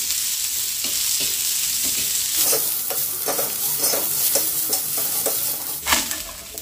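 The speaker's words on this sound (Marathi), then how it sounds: "तेलामध्ये आपल्याला कांदा थोडासा ब्राऊन रंगावरती छान मस्त असा लालसर भाजून घ्यायचा" Chopped onion browning to a reddish colour in hot oil in a pan gives a continuous close sizzle, broken by repeated scraping stir strokes and clicks of the spatula.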